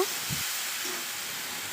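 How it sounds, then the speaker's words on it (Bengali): Whole dried shrimp (shutki) frying in hot oil, a brief steady hiss with a faint low bump near the start. "এবার আস্ত শুটকিগুলিকে ভেজে নেব"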